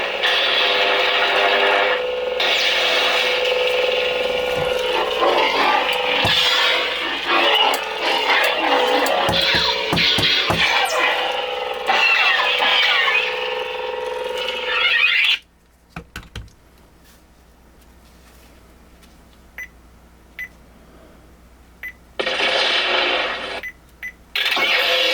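Spitfire sound font on a custom Graflex lightsaber with a green fire blade, a loud crackling, buzzing hum for about fifteen seconds, then near silence broken by short clicks and a final brief burst.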